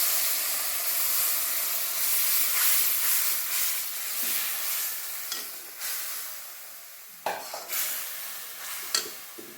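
Pumpkin and egg curry sautéing in hot oil gives a steady close sizzle with soft stirring scrapes that grow sharper toward the end.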